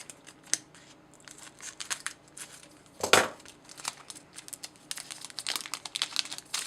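Scissors slice open a foil trading card pack with crisp snipping and crinkling of the wrapper, close and fairly quiet, with one louder tearing cut in the middle among scattered small rustles and clicks.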